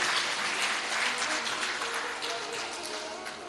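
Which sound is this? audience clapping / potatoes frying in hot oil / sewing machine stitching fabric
audience clapping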